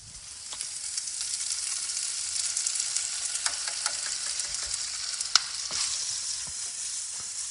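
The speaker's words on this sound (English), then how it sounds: "Give that a little stir." Food being stirred in a frying pan as it sizzles, a steady bright hiss with soft scraping strokes and a few clicks of the utensil against the pan, close and loud, no talking.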